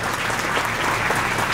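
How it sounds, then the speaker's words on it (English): Students at a school cheering ceremony applaud a guest, a loud, dense round of clapping from many hands close by that continues evenly throughout. "Lakshmi Joshi, please use round of applause for her."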